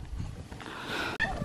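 Easter Egger and Cream Legbar hens with a Cream Legbar rooster give off a steady, moderately loud run of clucks and fowl calls close by, with a brief sharper squawk near the end.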